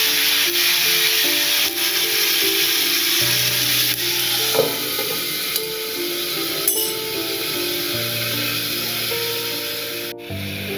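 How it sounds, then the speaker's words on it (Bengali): Onion, garlic and ginger are ground on a shil-nora grinding stone, a continuous rough rubbing and scraping at steady close volume with a low hum in the background. "পেঁয়াজ, রসুন আর আদা বেটে নেবো শিলনোড়া ভালো করে।"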